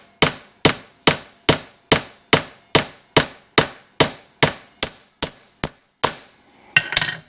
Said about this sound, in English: peening that rivet.